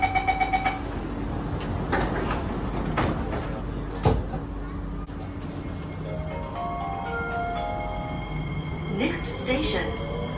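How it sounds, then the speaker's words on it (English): Door chime and closing of metro train doors on Singapore's MRT, with a rising electronic tone sequence and a soft thud as the doors shut, heard inside the carriage amid steady train hum. "Doors are closing."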